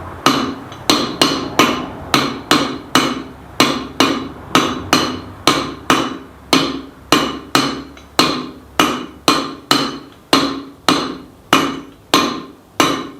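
Steady hammer blows tap old bearings into a Land Rover Discovery 1 in a garage, sharp metallic strikes repeating about twice a second for the whole stretch, close and loud with no talking.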